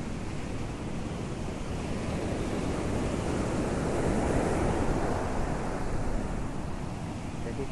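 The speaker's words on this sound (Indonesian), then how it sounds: "sekarang kita berada di Pantai Kelulut." Morning surf at Kelulut Beach, a steady broadband wash of waves with wind buffeting the microphone, constant and fairly loud throughout with no talk.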